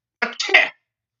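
A single short sneeze from a woman, a quick burst of breathy spray lasting about half a second, close and fairly loud, followed by silence.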